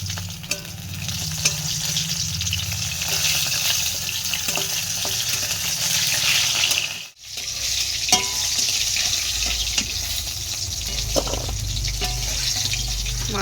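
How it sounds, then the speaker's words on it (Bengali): Fish sizzling and crackling in hot oil in a home kitchen, with a steady dense frying hiss and a few small pops, broken by a brief dip midway before the sizzle resumes. "মাছের তেলটা একটু ভাজা করতে হবে"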